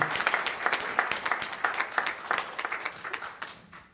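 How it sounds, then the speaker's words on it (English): A church congregation applauds a volunteer for her work on a church auction, giving a lively round of clapping with distinct individual claps that tapers off toward the end. "give her big applause for working endlessly on this auction"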